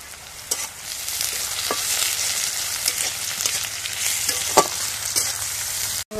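Cumin seeds and bay leaf frying in hot oil, a steady bright sizzle with scattered pops and crackles as the spices are stirred, close and continuous.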